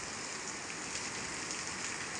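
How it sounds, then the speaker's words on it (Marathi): Steady monsoon rain pours down outdoors as a dense, even hiss that stays unbroken throughout, with no voices. "कंटिन्यू असंच पाऊस पडतोय"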